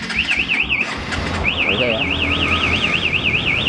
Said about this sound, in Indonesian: alarm akan bunyi keras